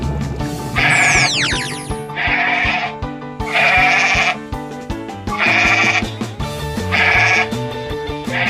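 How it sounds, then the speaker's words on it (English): A goat bleats in four or five long, wavering cries at roughly even intervals, close and loud, set against rhythmic background music. "Goat"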